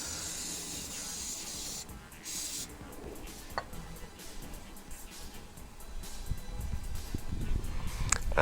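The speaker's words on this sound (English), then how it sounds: "I'll just give the outside of the carburetor a blast," Compressed air blasts across the outside of a two-stroke engine carburettor in a bright, steady hiss that cuts off briefly, then gives way to faint ticks and low rumbling handling noise.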